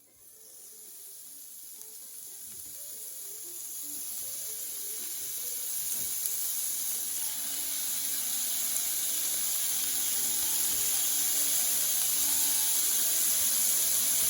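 Chopped cheesesteak meat sizzles on a Ninja Foodi Pro XL griddle, a steady hissing fry that builds gradually louder and stays continuous throughout, with faint low clatter underneath.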